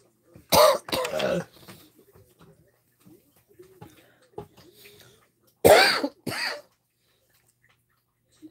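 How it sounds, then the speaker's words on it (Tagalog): Several harsh coughs come in short bursts, a pair early and another pair later, with quiet breathing and faint sounds between. "Panay ubo na naman ako."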